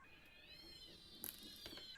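Cats meowing at each other in a territorial squabble outdoors, a faint, wavering cry with a brief sharper yowl partway through, distant and quiet.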